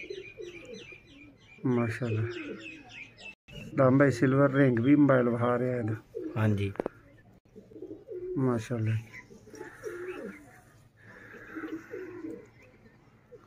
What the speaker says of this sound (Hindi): अगों एक होर कबूतर आ गया दोस्तों